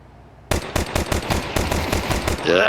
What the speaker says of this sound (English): Those back-turned headshots can be tricky with the pistols, but Rops has retrieved the C4